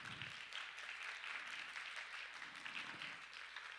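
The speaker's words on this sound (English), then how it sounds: "A big round of applause" Faint, steady applause from a conference audience at an international women and peace event, continuous and distant-sounding for the whole stretch.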